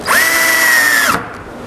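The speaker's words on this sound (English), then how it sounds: "I want to make sure that the alignment was perfect before I drill the screw hole, or pre-drill for the screws." A power drill runs steadily for about a second, boring pilot holes for coated deck screws in a boat seat build, with a high whine that cuts off cleanly and leaves a quiet room.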